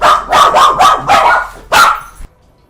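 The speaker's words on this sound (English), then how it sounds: "But this is the NCR's guard dogs." Rapid string of loud, close barks from NCR guard dogs in Fallout: New Vegas, five or six quick woofs in steady rhythm ending abruptly, with no voices.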